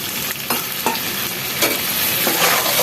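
A ginger-garlic masala with turmeric, salt and a splash of water sizzles loudly in a pan, broken by several distinct scraping stir strokes over the steady frying hiss.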